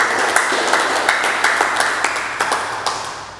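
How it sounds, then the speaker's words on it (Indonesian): A church congregation claps in steady applause, sharp rhythmic hand-clap bursts repeating across the moment with a broad crowd wash beneath and no clear voices on top. "Berikan sorak-sorak buat Tuhan kita."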